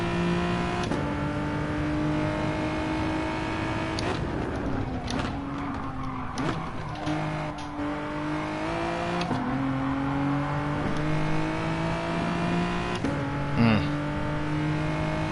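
Race car engine in the CC SIM GR4 Genesis racing sim on the Nürburgring GP circuit, droning steadily throughout with rising and falling pitch through repeated upshifts and downshifts, loud and continuous.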